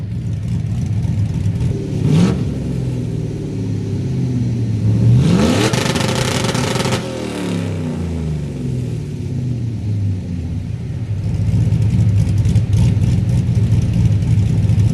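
A Chevy Blazer with a cammed 5.3 V8 holds a loud, choppy rev on 2-step launch control set near 5,000 RPM, with sharp rising revs and rapid popping bursts from the exhaust, close and sustained.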